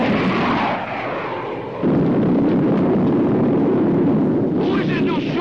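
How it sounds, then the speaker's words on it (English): Missile launch and blast effect from a 1950s space adventure TV series, a loud rumbling roar that swells into a sustained booming explosion, with a brief rising sweep near the end. "Prepare to fire 2 missiles on a 5-count, Biff."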